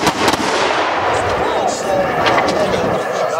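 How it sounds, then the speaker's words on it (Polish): At a historical reenactment of the Battle of the Seelow Heights, held during the Days of Dobra 2018, artillery fire sounds as loud, close bursts of booming shots. Someone talks over the gunfire. "dochodzi do strzału artyleryjskiego"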